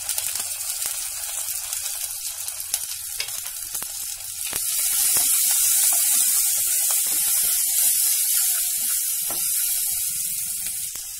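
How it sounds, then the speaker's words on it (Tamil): Chopped onion and curry leaves go into hot oil with spluttered mustard seeds, plus salt and asafoetida, for an okra tamarind curry. A steady sizzle swells louder partway through and keeps frying with no talk. "இப்போ கடுகு நல்லா பொரிஞ்சிச்சு, இதில் வெங்காயம், கருவேப்பிலை, இது கொஞ்சம் உப்பும் பெருங்காயமும் போட்டுடலாம்."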